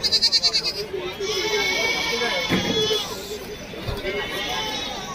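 Goats bleat at a goat market, with loud wavering cries at the start and more bleats further on, over a background of crowd chatter.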